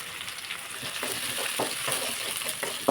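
Cumin and coriander seeds dry roasting in a pan give a soft, continuous rustling hiss with a few faint scraping stirs, close and moderate in level, with no voices.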